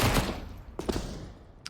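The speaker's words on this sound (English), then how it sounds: "Flamesy, big MP9 kill" Bursts of MP9 submachine gun fire in the Counter-Strike video game, a loud volley at the start followed by a few sharp shots and a faint late crack.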